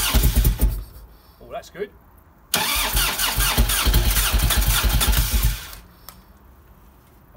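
An Evo motorcycle engine with a newly fitted Mikuni carburettor, cranking briefly and then catching into a loud, close rumbling run for about three seconds before dropping away, with someone speaking briefly.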